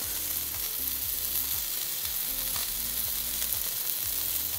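Onion sizzling and caramelizing in a hot pan beside melting mozzarella for a BBQ chicken wrap, giving a loud, steady, dense frying hiss with a low hum underneath.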